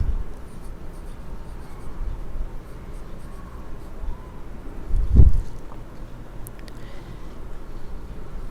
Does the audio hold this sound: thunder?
no